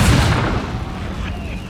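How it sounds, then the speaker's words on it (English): Cannon fire during a fortification assault in Empire Total War: a single loud, deep boom opens, then decays into a lingering rumble over nearly two seconds. "they only have 1 cannon firing right now"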